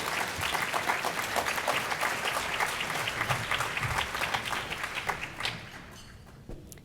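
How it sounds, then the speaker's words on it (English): Steady audience applause at a New York immigrant conference plenary, dense continuous clapping from a large crowd that fades out near the end. "Please give her a round of applause."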